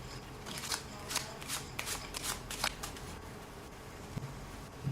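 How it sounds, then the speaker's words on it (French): A deck of playing cards being shuffled during a card magic trick, a run of crisp riffling bursts with short pauses between them, close and alone with no talking. "on va de nouveau bien mélanger le paquet"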